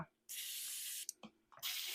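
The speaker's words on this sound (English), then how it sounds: "Spray it on my hand. Yeah, it's spraying in the arc that I want it to." An airbrush sprays Vallejo metallic paint in short hissing bursts, a bright, close airy spray that starts and stops with brief pauses between.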